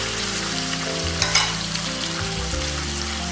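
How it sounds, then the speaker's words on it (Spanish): Liver sizzling in a pan with onion, a steady close frying hiss with a brief spike of stirring about midway, no voices. "Se mueve para que se fríe un poco con la cebolla."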